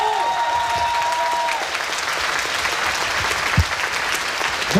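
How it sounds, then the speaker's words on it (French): Steady applause from a convention audience at a geek festival meet-up, dense and continuous clapping filling the room, with faint tones early on and brief shouts near the end. "Chers amis, applaudissements"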